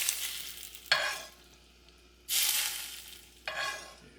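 Very hot oil poured over steamed lobster tail meat, sizzling in three sharp bursts that hiss loudly and then fade, close up with no talking.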